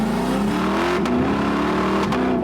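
A Lexus LC 500 V8 coupe revs hard through its quick-shifting 10-speed automatic, the engine note climbing with sharp breaks at each gear change, loud and close.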